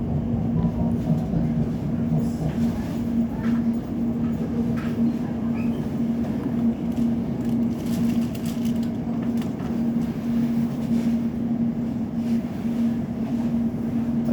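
A London Elizabeth line train pulls out of the station, a steady low rumble and hum of the moving carriages filling the whole stretch, with faint platform noise on top.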